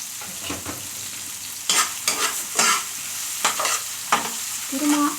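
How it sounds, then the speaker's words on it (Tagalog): Tilapia picadillo being stirred in a pan, with utensil scrapes and clacks over a steady sizzle of frying, several distinct stirring strokes close by and no talking. "Haluin natin. Lagyan natin ng kunting asin."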